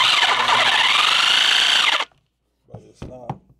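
A broken DeWalt DW309 corded reciprocating saw motor runs loud and whining for about two seconds before stopping, followed by a few brief clanks and knocks as the blade holder stays still.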